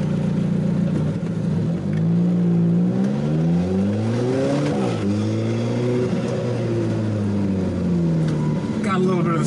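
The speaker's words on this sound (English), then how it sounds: "driving an Italian carbon fiber sports car around the canyon" An Alfa Romeo 4C Spider carbon fiber sports car drives a canyon road, its engine note loud and close, climbing and falling through several rev sweeps with a brief dip near the middle.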